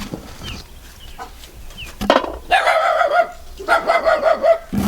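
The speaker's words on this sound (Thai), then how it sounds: "หมาเห่าตอนนี้หมาเห่าได้แล้ว" A dog barks in a series of loud, close yaps with short pauses between them, outdoors where young star gooseberries are being picked; the barking begins after a quieter stretch of faint background sound.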